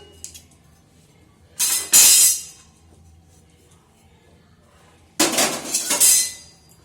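A pile of utensils clatters during dishwashing in two loud bursts of clinking, clanking metal and crockery, separated by a few quiet seconds. No voices.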